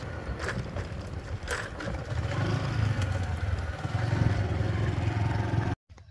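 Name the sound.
motorcycle engine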